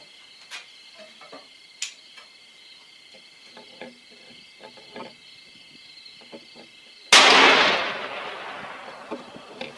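A single loud gunshot from a .416 Ruger elephant rifle with a 20-inch barrel, fired at sheet metal outdoors, cracks sharply and rings out in a decaying tail, following several seconds of faint ticking and insect-like background chirps.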